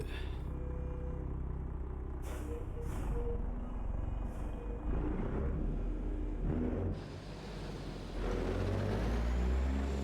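A Kenworth T800 truck hauling a bulldozer in American Truck Simulator gives a low, steady diesel rumble, broken by a few sharp air-brake hisses near the start and again midway.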